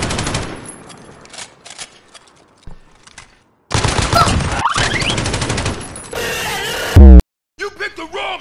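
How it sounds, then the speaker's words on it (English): Bursts of automatic gunfire from the Gulag in Call of Duty Warzone, loud and dense, broken by gaps and sharp mechanical clicks, with game sound and some speech mixed in. "I just shot a gun."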